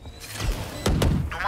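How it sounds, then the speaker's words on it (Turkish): A smoke grenade thrown in a video game gives a soft whoosh followed by a louder double burst, close and sudden, with faint ambient game noise around it. "Bir smoke atacağım."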